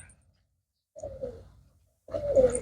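Pigeons kept for sale make two short bursts of low cooing separated by silence, close and moderately loud.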